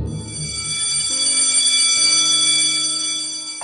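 A school bell rings to signal the end of classes at a high school, a sustained bright metallic ringing that holds steady for several seconds, loud and close with no talking.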